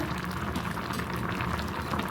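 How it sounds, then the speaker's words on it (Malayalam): A pot of avial curry with okra bubbling at a steady boil, a continuous dense simmering gurgle with small popping bursts, close and moderately loud, with no voices. "ഇപ്പോൾ കണ്ടോ നന്നായി തിളച്ച് വന്നിട്ടുണ്ട്"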